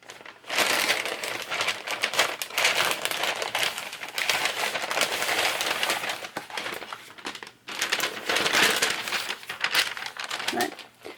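Plastic bag holding a Simon Says Stamp Warmest Wishes December 2024 card kit is handled and opened, producing loud, close, continuous crinkling and crackling with a brief pause midway.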